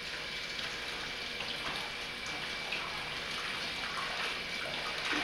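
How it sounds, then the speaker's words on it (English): Clean water runs steadily while a paint roller is rinsed out, an even wash of splashing flow from start to end with no voices. "I'm going to use some clean water on it this time."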